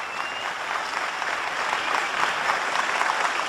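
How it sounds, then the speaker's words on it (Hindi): An audience at a Hindi-Urdu poetry recital applauds steadily, a dense wash of many hands clapping at moderate distance that continues without a break throughout. "देखिए तालियां कैसे बजती"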